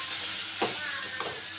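Ivy gourd and tomatoes fry in oil with a steady hissing sizzle, broken by two brief stirring scrapes, close and moderately loud.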